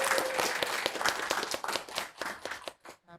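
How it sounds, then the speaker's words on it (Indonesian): Enthusiastic audience applause greets the a cappella group V-Voice from UIN Antasari Banjarmasin, a dense patter of many hands clapping close and loud, tapering off raggedly near the end. "kita sambut dan tepuk tangan yang meriah untuk V-Voice Win"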